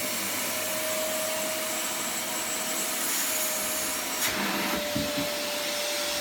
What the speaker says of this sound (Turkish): Elektrikli süpürge ve renkli toplarla yaptığımız eğlenceli bir oyun.